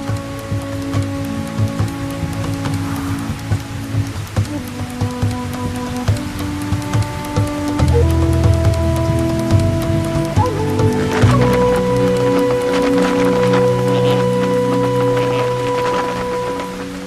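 Continuous monsoon rain pattering under a swelling orchestral score of sustained tones, the rainfall steady and moderately close throughout.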